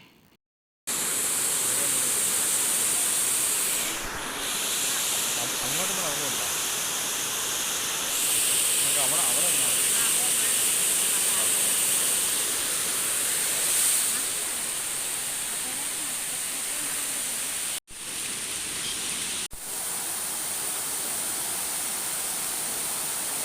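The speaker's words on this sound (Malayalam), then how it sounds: "ഇതാണ് നമ്മുടെ അരീക്കൽ വെള്ളച്ചാട്ടം" Areeckal Waterfalls roars in a steady, broad rushing wash that fills the whole stretch, loud and constant with only brief dips.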